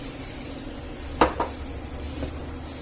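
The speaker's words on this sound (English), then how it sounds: "And listen to that sizzling." Water hits a hot pan with chorizo and sizzles as a continuous bright hiss, with a couple of sharp spatters or utensil taps in the middle.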